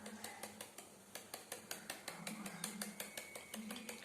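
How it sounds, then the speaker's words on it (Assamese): A knife chops banana flower finely on a board in a home kitchen, with quiet, steady taps about four per second, each a crisp click of the blade. "মই এতিয়া কলডিলখিনি এনেকৈ কাটি লৈছোঁ। এয়া চব এনেকৈ মিহি মিহিকৈ কাটি ল'ম।"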